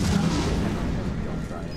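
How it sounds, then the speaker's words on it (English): Bomb explosion in Resident Evil 7, a loud, dense low boom that rolls on for nearly two seconds, with a voice speaking over it. "can you throw more than one bomb down?"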